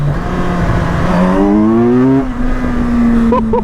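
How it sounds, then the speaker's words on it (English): A 2025 Kawasaki Versys 1100S touring motorcycle pulling hard in first gear, its engine note climbing steadily in pitch as it revs up close and loud, then settling briefly before a faint whine at the end. "in first gear there, it just wants to lift the wheel"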